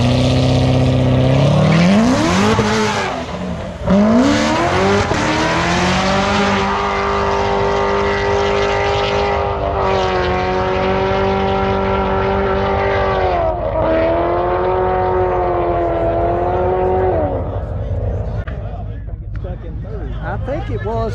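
A ProCharged Corvette's supercharged engine revs loudly and continuously on the throttle, rising in pitch and holding high, with wind and road noise close up and people talking over it.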